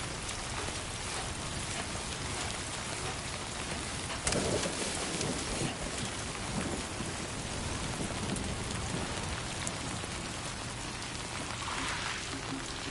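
Rain falls steadily in the video game Death Stranding 2, a dense, even hiss of drops with a brief louder burst partway through and no talk.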